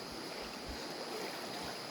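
Two rivers meeting at a river mouth, a steady broadband rush of flowing water with some wind buffeting the microphone, continuous and fairly close with no voices.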